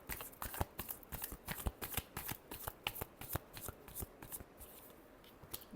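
Tarot cards being shuffled by hand, a quick run of crisp riffling flutters and soft slaps, close and fairly quiet, with no talking.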